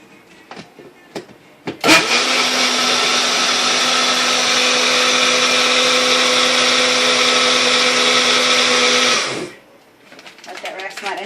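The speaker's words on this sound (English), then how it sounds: "I will just stick it on the blender and let it go for a few seconds" A blender blending protein pudding whirs loudly and steadily for about eight seconds after a few clicks, then stops abruptly, leaving quiet handling noises.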